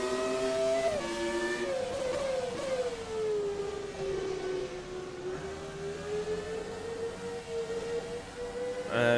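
A Williams FW16 Formula One car engine in an ASR racing sim, a loud, continuous high-pitched whine that drops in pitch through a corner, holds steady, then rises sharply as the revs climb at the end.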